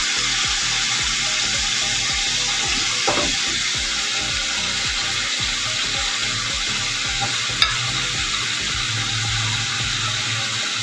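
Onions, carrots, papaya and potato fry and get stirred in a pan for chicken stew, a constant near sizzle under repeated scraping strokes and an occasional sharp clink.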